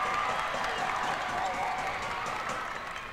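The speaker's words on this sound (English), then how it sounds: "Crowd's getting loud." Crowd noise swells steadily at a high school boys basketball game between Mansfield and THS, a broad, loud wash of cheering and clapping filling the gym throughout, with no clear talk over it.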